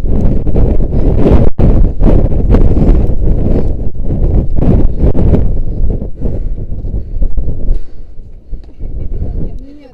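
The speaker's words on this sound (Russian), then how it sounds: "А это ветер?" Strong wind buffets an outdoor microphone on a 25-metre bridge, a loud, continuous rumbling roar with gusty surges that eases slightly toward the end, with faint voices now and then underneath.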